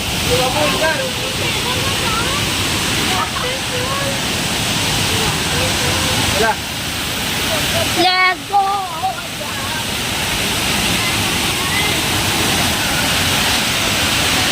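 Savdav waterfall near Kankavli pours with a steady, loud broadband rush throughout, close by, while people talk over the roar of the water.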